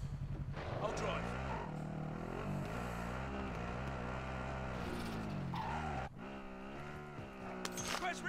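A vehicle in Call of Duty Warzone drives with a steady engine drone that rises and falls, with brief tire squeals and players talking over it.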